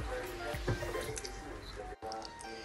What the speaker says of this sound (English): I'm gonna wash it with some vinegar as well.